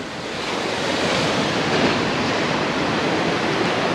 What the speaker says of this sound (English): Next on the list is the Quiet Beach, and this is Quiet Beach.